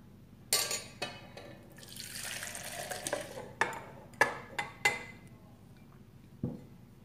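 Grated soap and hot water stirred in a pot for homemade hand wash: a spoon scrapes and knocks against the pot, with sloshing liquid and several sharp close clinks through a few seconds.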